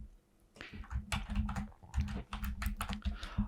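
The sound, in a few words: computer keyboard typing, pressing Ctrl R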